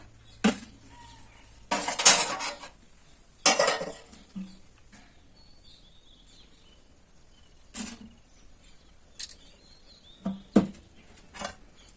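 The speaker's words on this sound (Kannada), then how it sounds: "ಇವೆರಡೂ ಈಗ ನೀಟಾಗಿ ಮಿಕ್ಸ್ ಮಾಡ್ಕೋಬೇಕು" A spoon stirs and scrapes a turmeric powder, coffee powder and milk cream face pack in a small bowl, giving sparse clinks and scrapes in short bursts with quiet gaps between them.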